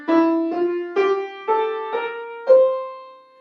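An mbira plucked in a rising Mixolydian scale with a flat seventh: six close, clear, ringing notes in an even, unhurried rhythm, each decaying briefly before the next, alone without speech.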